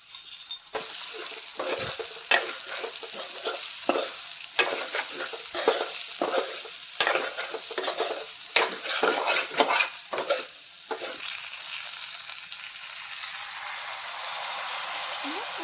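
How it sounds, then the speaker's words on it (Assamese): Sesame seeds fry with meat in a pan, stirred steadily so that irregular scraping and clatter rise over a constant soft sizzle. The stirring stops near the end and the sizzle carries on alone. "তাৰপিছত ধুনীয়াকৈ তিলখিনি মাংসৰ লগত ভজা যাব দিব"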